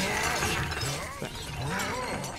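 Objects smash and shatter in the video game Luigi's Mansion 3, with bursts of breaking debris repeating over busy game noise and a voice talking throughout.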